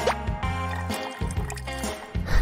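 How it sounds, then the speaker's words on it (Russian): Cola is poured into a bottle in short bursts of liquid splashing and gurgling, close up and fairly loud, with brief pauses between pours. "Просто наливаю колу в бутылку."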